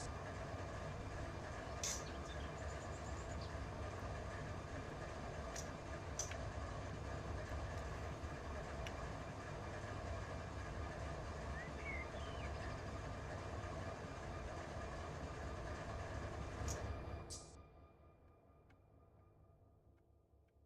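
A train rolls past in a rail simulation of a Norfolk Southern route, a steady broad rumble with faint clatter holding for about seventeen seconds before cutting off to a quieter hum.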